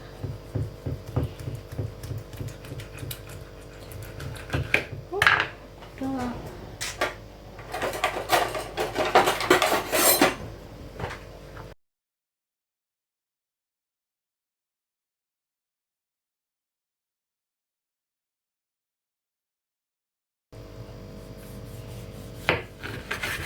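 A knife cutting ginger, orange and lemon on a board, with scraping, rubbing and chopping knocks for several seconds, a long gap of silence, then more faint cutting sounds.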